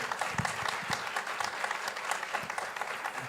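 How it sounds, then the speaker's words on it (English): An audience claps in steady applause at a Falling Walls Lab event in Ecuador, a moderate, even patter of many hands with scattered sharper claps close by. "a big applause to everyone who's already here and made it here"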